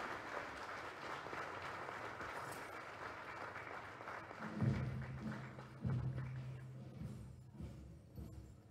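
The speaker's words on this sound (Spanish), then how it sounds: "Un fuerte aplauso, por favor" Applause from an audience at a Senate tribute ceremony after a military band performance, moderate and steady, with a few low thuds and a sustained low tone partway through.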